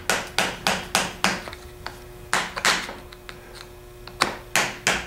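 Hammer tapping a screwdriver to tighten a plug with a new O-ring while rebuilding a 42MT, a series of sharp close metallic taps in uneven quick groups, some pauses between, no speech.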